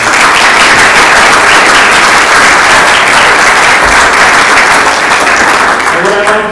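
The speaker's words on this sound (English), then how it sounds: "I'd like to have a round of applause for the folks back here." Loud, sustained applause from a conference audience, with dense overlapping claps at close range that stay even throughout and ease slightly near the end, where a voice begins.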